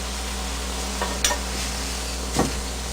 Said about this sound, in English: And that beautiful char on that jalapeno there, that serrano, my gosh.